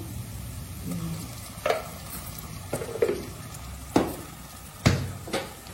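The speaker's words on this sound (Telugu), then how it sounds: "ఇప్పుడు అల్లం వెల్లుల్లి పేస్ట్ 1 స్పూన్ వేస్తున్నాం" Ginger garlic paste frying in a pan for pav bhaji, a soft sizzle under several distinct stirring scrapes and clinks of a spoon against the pan spaced a second or so apart, no talking.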